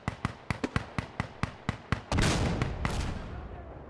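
Rockets launching in a military video game: a rapid series of about a dozen sharp, evenly spaced firing thumps, followed by a loud, sustained roaring blast that slowly fades.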